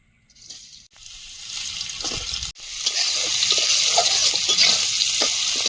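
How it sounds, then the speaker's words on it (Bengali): Carrots going first into hot oil in a wok for village-style chicken chow mein: a quiet start broken by a couple of sharp clatters, then a loud, steady crackling sizzle that holds to the end. "কড়াইতে তেল দিয়ে দেব এবার সবজিগুলো ভেজে নেব"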